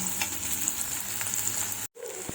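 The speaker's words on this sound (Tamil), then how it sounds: "வெங்காயம் விதங்கி வரட்டும்." Onions sautéing in a pan for a tomato thokku, a steady close sizzle with faint stirring ticks, cutting out briefly near the end before resuming more quietly.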